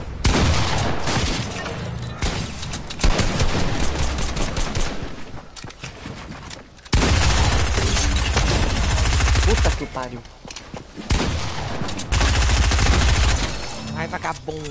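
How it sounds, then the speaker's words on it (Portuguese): Bursts of gunfire from the battle game Fortnite come in loud rapid volleys, with short pauses between them. Excited players talk over the shooting. "Tem gente atirando."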